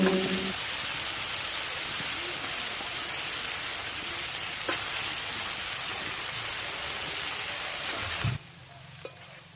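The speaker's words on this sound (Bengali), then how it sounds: "ডাটাগুলো দিয়ে ভালো করে সবজির সাথে মিশিয়ে নিচ্ছি" Steady hiss of crushed cauliflower stalks frying with mixed vegetables in a pan, a broad sizzle with occasional stirring scrapes, dropping off sharply near the end, no speech.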